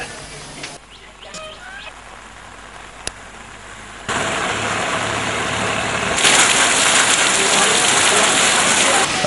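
Heavy continuous rain pours down on the flooded town of Ratnapura, Sri Lanka, a dense hiss that grows louder, with an engine idling faintly underneath.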